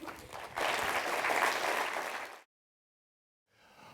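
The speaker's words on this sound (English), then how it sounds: "Please, ladies and gentlemen, give him an applause." At an NYU Abu Dhabi Institute lecture, an audience claps for the speaker, starting lighter, swelling into fuller applause for about two seconds, then cutting to silence before faint room sound returns.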